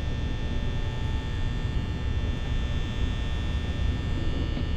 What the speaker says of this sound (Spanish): Maldito ventilador, por culpa suya es que no me llega el poder.